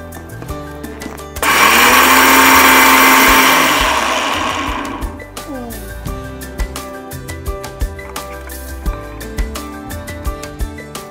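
An electric mixer grinder whirring loudly as it grinds soaked rice with water, a harsh high-pitched motor whine for a few seconds that winds down, followed by quiet clattering taps.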